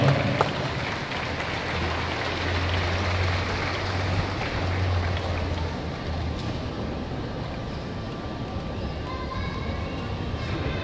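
Sustained, even applause from a large audience fills the hall at a nursing pinning, capping and candle lighting ceremony, a steady wash of clapping with no distinct individual claps standing out.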